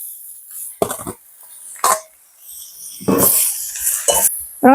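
Chicken for chicken kothu tipped into a hot pan and stirred, with bursts of loud sizzling and scraping between quieter stretches, close by.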